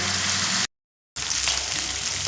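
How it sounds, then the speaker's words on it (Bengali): Spiced masala paste frying in oil with a splash of water while cooking taro leaves, giving a steady close sizzle and bubbling hiss that cuts out briefly to silence midway, then resumes. "সেই মশলা দিয়ে দেবো দিয়ে দেব অল্প একটু জল যাতে মশলাটার তলায় ধরে না যায়"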